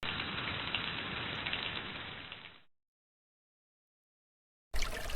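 Steady rain falls in a dense, even hiss of drops for a couple of seconds, then cuts off abruptly into silence before another loud burst of rain returns at the end.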